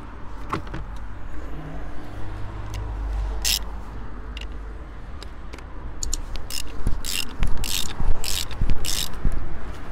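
Ratchet tightening the oil drain plug on a Volkswagen Golf 7 GTI 230 during an oil change, with rapid clicking pawl bursts that grow louder and denser toward the end, close up over a low background rumble.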